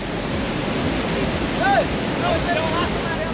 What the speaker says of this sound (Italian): Guardate che onde là dietro.